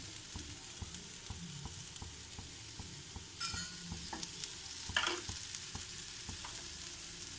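Mixed dal dosa cooks in oil on a hot pan, giving a steady, quiet sizzle with a few sharper scrapes and stirring clicks and no voices.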